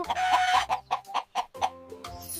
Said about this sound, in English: Who's crowing in the morning?